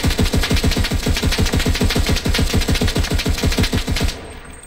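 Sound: assault weapon firing in a video game

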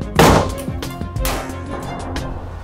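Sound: rifle firing a 7.62x39mm mild steel core round at a test plate

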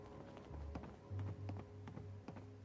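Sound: player character footsteps in the video game Fallout 76

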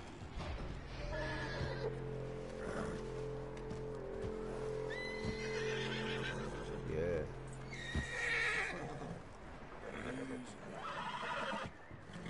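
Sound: horse neighing

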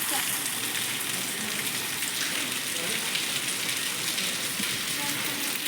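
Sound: rain falling

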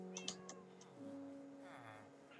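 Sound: ocelot meowing in Minecraft video game

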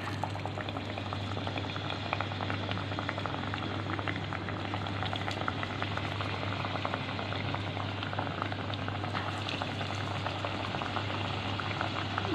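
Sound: spiced potato pakoras frying in oil

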